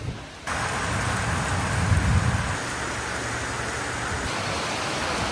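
Steady rain pours down in a broadband hiss during a sudden daytime darkening, with a heavier low rumble surging briefly partway through before settling back to an even, continuous wash.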